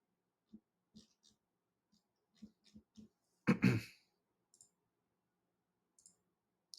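Sharp, quiet mouse clicks come one at a time at an uneven pace while sorting a list of stocks on a computer, with one louder broadband thump partway through and a few faint clicks after it.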